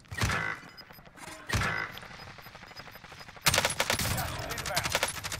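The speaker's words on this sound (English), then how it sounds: "I'm getting shot in the back." Gunfire from the Kilo rifle in Call of Duty Warzone: two sharp shots, then a sustained burst of rapid automatic fire, loud and close.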